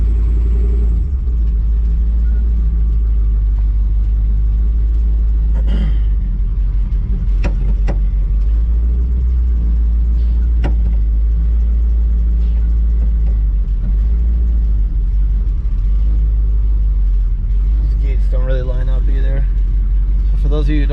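A Chevy S-10 truck idles inside a garage with a heavy, steady low rumble up close, a touchy gas pedal nudging it into slight revs while someone talks over it and a few clanks sound near the end.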